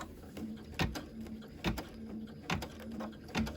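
An embroidery machine stitches out a Kreative Kiwi tea light candle cover, giving a steady mechanical hum punctuated by regular, fairly loud thumps about once per second, heard close with no talking.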